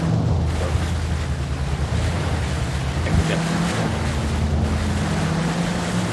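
Ocean waves and surf rushing in a steady broadband wash, with wind buffeting the microphone and a low engine-like drone of a boat underneath, continuous and loud throughout.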